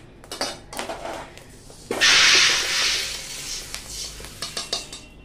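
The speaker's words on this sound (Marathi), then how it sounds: "याच्यामध्ये हे भाजलेले गहू सगळे काढून घेते" Roasted wheat grains are scraped and poured into a metal pot, with a burst of rushing grain, clinks of a spoon against the pot, and scattered taps and scrapes.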